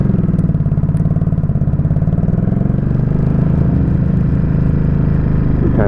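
A 2017 Ducati Supersport motorcycle engine runs up close and loud on a test ride, giving a steady throbbing drone with a slight rise in pitch near the end.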